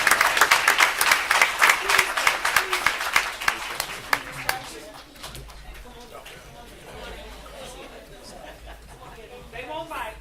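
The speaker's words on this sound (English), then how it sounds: "One more round of applause for our 2026 Fall Youth City University." A crowd applauds the Fall Youth City University class at a City of Florence, South Carolina civic event, with dense, loud clapping for about five seconds that fades into murmured chatter and talking.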